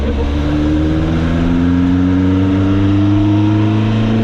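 A freshly built Ford Crossflow race engine in a TVR revs loudly and close, a steady rough mechanical drone with rising and held tones, continuous and unbroken throughout, no voices.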